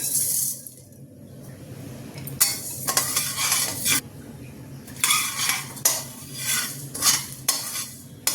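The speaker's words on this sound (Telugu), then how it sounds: "ఇప్పుడు మనం ఈ ఫ్రై అయ్యే లోపల మనం గుజ్జు చేసేసుకుందాం. చింతపండు గుజ్జు వేగేయండి. ఇప్పుడు మిగతా మసాలా దినుసులు కూడా మొత్తం వేసేసుకుందాం." Tamarind pulp and spices are stirred in a metal frying pan for temple-style pulihora, a spoon scraping and clinking against the pan in repeated bursts over a low steady sizzle, close and without talk.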